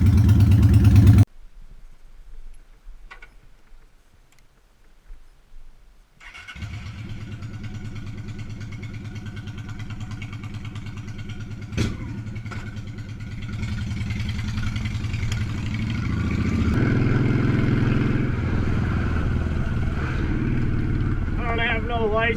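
A Honda Shadow motorcycle with rebuilt carburetors rumbles steadily while being ridden, a mid-pitched engine drone that rises a little in intensity after a brief quiet start and a few knocks.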